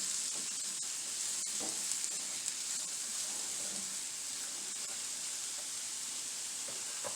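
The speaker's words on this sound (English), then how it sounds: "We're going to give this a stir." Food sizzles and fries steadily in a hot pan while being stirred, a close, continuous hiss broken by soft scraping and clacking of the utensil, with no voices.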